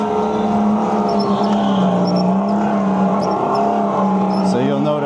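A supercharged league go-kart at an indoor track in Edison, New Jersey rolls out onto the circuit, its engine droning steadily and loudly throughout at a fairly even pitch with slight rises and falls.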